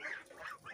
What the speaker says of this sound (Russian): Мои гуси перевернули кормушку